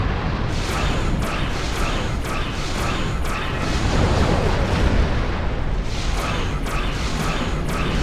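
Starship weapons firing in the space combat game Star Trek Online, aboard an old Romulan warbird: a rapid series of heavy booming blasts and whooshing bursts, loud and close, in an irregular rhythm over a rumbling background.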